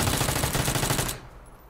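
Rapid automatic gunfire from a PUBG match, a dense, loud burst of shots lasting about a second before cutting off abruptly into quiet.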